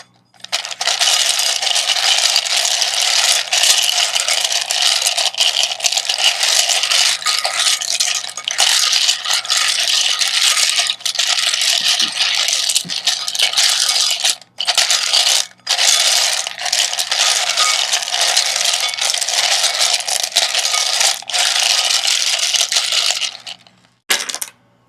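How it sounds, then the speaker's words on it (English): Tarot tiles shuffled across a table, producing a dense continuous clattering rattle for most of the stretch, broken by a few short pauses before stopping abruptly, loud and close with no voices. "So I'm going to start off by shuffling the tarot tiles."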